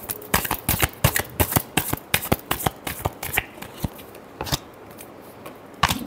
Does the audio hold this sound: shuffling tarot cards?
yes